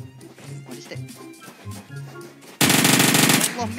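Rapid automatic gunfire erupts in a PUBG-style battle royale match on the Karakin map, a loud sustained burst arriving abruptly after a stretch of quieter in-game sounds and talk.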